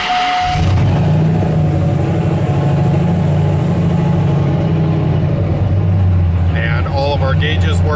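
A pickup truck engine runs steadily at idle, loud and close, a constant low rumble with a slight rise near the end.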